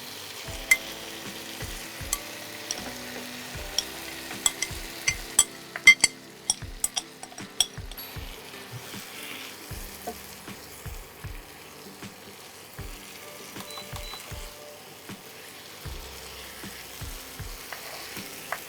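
Marinated chicken for a Bengali mustard chicken curry with raw mango sizzles in a pan while a utensil stirs and scrapes it, giving a steady frying hiss broken by repeated sharp clinks and knocks.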